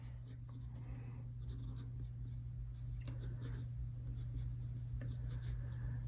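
Pencil sketching lines on paper, soft steady scratchy strokes repeating over a constant low hum.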